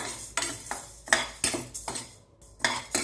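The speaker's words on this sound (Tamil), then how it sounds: "எல்லாமே இப்போ பனி காலன்றதால நல்லா வறுத்து எடுத்துக்கோங்க ட்ரையாக தான் இருக்கணும் எண்ணெய் எதுவும் விடக்கூடாது" Dry lentils being roasted without oil in a pan for idli podi, stirred with a metal spoon that scrapes and clinks against the pan in irregular bursts, close and fairly loud, no talking.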